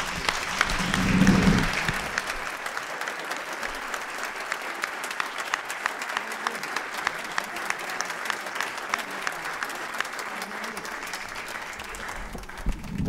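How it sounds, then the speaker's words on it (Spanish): Applause from an audience greets a woman introduced on stage, a dense wash of clapping that starts with a brief louder swell and then holds steady and fairly close for over ten seconds. "Pido un aplauso para ella."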